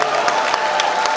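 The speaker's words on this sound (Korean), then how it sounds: "큰 박수 한번 보내주십시오." An audience claps at a regional volunteer neighborhood-patrol association rally, a brief burst of dense, even applause with faint crowd noise.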